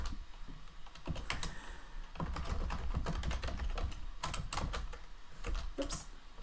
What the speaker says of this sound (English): As I type.